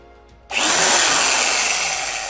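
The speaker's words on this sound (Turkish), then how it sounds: "Kılavuz delikleri delme aşamasındayız." A short quiet pause, then a power drill starts abruptly and whirs loudly and steadily, boring pilot holes through material close by.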